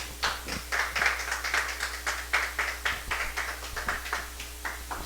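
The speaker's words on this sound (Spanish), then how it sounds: "Bríndele fuertes palmas al Señor" A congregation claps steadily at a Christian church service, a brisk run of rhythmic handclaps carrying on at moderate volume for the whole stretch with no talking over it.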